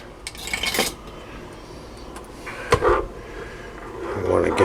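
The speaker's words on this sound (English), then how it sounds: "I want to give it a stir." Macaroni is being stirred in a pot, with a few scraping, clinking strokes of a utensil against metal spaced across the moment and quiet kitchen noise between them.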